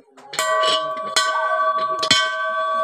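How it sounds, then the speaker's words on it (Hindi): A metal temple bell is struck three times at a steady pace, each strike ringing out with a sustained, shimmering tone that overlaps the next, close and loud. "घंटी भी बजाती हूँ"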